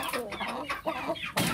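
A young import-cross cockerel from a farm in Gorontalo gives a few short, close clucks and croaky calls in quick bursts, ending in a sharper, louder cry.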